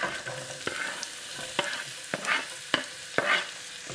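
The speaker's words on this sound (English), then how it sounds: "get a couple of tablespoons of oil, the same oil, and get some onions in" Onions fry in a couple of tablespoons of oil, giving a soft hissing sizzle under repeated sharp spatula clicks and scrapes spaced about half a second apart, fairly quiet, no voices.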